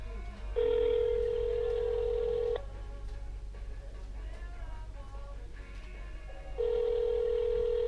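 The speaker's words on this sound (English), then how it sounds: "I'm on the phone with AutoZone, currently on hold for about 2 minutes now." A telephone call on hold with an auto parts store, with steady electronic tones that start, stop and return over a low hum, and faint background noise between them.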